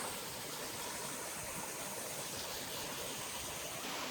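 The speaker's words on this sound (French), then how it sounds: "Cascade." Steady broadband rush of a waterfall cascade at a campsite on a bivouac trek, continuous and fairly loud with no voices over it.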